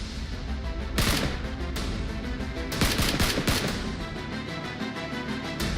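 Taliban fighters fire on the Buddha statues at Bamiyan in a dense, continuous barrage of rapid gunshots, with sharp louder bursts standing out over the sustained clatter and no speech.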